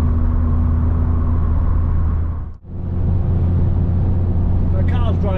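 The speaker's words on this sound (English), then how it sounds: "I know it's a 30-year-old car, but it's still really comfortable to sit driving the motorway." A 30-year-old Vauxhall Cavalier CD cruises on the motorway with fresh leads and twin-prong spark plugs, producing a steady low cabin drone and road rumble that briefly dips midway.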